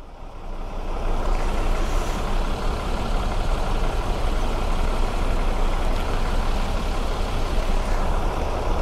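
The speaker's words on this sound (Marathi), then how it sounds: "दोन्ही लेनला फक्त जाण्याचा ट्रॅफिक आहे." Heavy night traffic jam on a Konkan-to-Mumbai highway, with trucks and buses idling and creeping along, a dense continuous low engine rumble heard from inside a bus, no talk.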